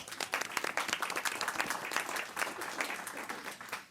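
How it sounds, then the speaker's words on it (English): Lively applause at a board of trustees regular meeting, a crowd clapping with many sharp overlapping hand claps, sustained and fairly close for a few seconds. "let's give him a round of applause"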